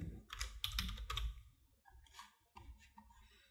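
Bursts of typing on a computer keyboard, quick clusters of clicking keystrokes close up, pausing briefly between runs.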